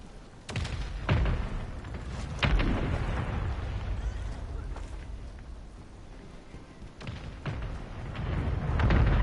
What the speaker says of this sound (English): Mortar strike inbound now.